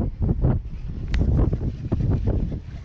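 Strong wind buffets the microphone with a continuous low, rumbling roar that gusts and swells without letting up, outdoors while pike fishing in Sweden.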